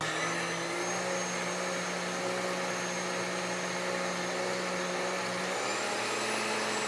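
A kitchen blender runs steadily, whirring a sweet mixture with cocoa powder in one continuous, even motor hum with a slight pitch drop near the end, no voices.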